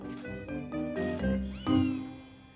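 A feral mother cat with four kittens meows several times in a row, close and clear, with a few light metallic tinkles mixed in.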